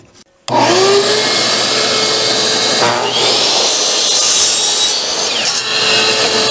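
A saw cuts through a wooden shed roof rafter along a traced line in a woodshop, a loud, close, steady rasping cut that starts abruptly and runs without pause, with no voices.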